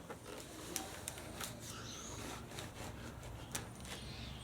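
A Bell MX-9 Adventure motorcycle helmet being pulled on, with close scraping and rubbing of padding and shell and a few sharp knocks over several seconds, and no talking.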